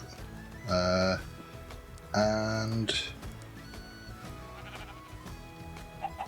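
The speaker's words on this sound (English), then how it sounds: "Go on then, off you go, Mr. Sheep." Sheep bleating twice in the game Agrarian Skies, loud and close, with a third shorter bleat after, over faint background noise and a brief spoken word.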